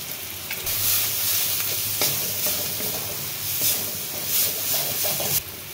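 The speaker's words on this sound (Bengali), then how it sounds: "মশলাটা আমার বেশিরভাগটি ভাজা হয়ে গেছে" Spices with garam masala fry in a pan for a crab curry, giving a loud, continuous sizzle broken by repeated stirring scrapes, close up with no talking.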